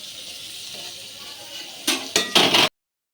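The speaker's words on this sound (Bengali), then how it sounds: "ঢাকা দিয়ে ফুটিয়ে নেবো জন্য ঢাকা দিয়ে দিচ্ছি" Over the steady hiss of a pot of crabs boiling in water, a metal lid clatters into place with three quick clanks, then everything stops abruptly.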